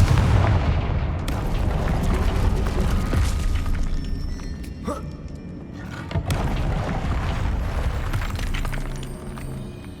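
The Confringo fire blast spell in Hogwarts Legacy explodes in deep rumbling booms and sharp crackling bursts, with a big blast near the start and more scattered impacts later amid a busy game soundscape.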